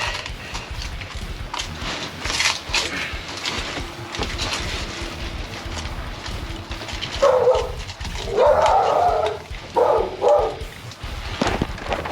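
A dog barks in loud bursts and whimpers between them, close by and unaccompanied by talk, with a steady background hum underneath.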